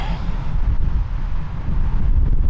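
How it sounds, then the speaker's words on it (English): Strong wind on an open ridge buffets the microphone with low, rumbling gusts that rise and fall continuously, with no voices. "Holy cow, it's windy."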